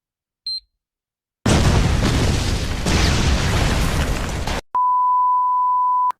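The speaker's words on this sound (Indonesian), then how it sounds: "meledak." A BIM bomb in the anime Btooom goes off, a loud sustained roaring blast lasting a few seconds, bracketed by a short electronic beep before and a steady high tone after.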